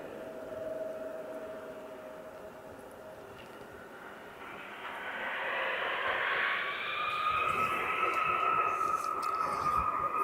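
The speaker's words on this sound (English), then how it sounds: "we're getting to see the KLM leave" A KLM airliner departing Aberdeen Airport, a distant roar that swells and grows louder over the second half as the jet spools up and climbs away, with steady background hiss.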